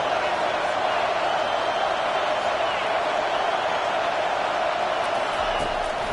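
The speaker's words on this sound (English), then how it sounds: "this crowd is turning it up a notch" A stadium crowd at an American football game roars in a dense, steady wall of cheering with no lulls, under a commentator's voice.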